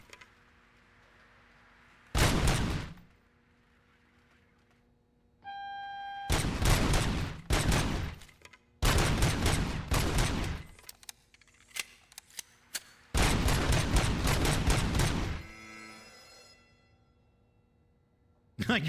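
Rapid bursts of video game gunfire, loud and close, come in several separate volleys with quiet pauses between them, the bursts growing longer toward the end.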